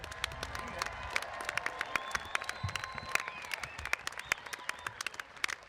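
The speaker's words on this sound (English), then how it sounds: "let's give a round of applause for our" Applause at a high school graduation ceremony: a large crowd claps steadily in a big venue, with scattered sharp claps standing out over a dense wash of hands and faint crowd murmur.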